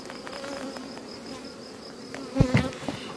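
Honeybees drone steadily from an opened beehive, a dense close buzzing with a louder swell of individual bees passing near near the end.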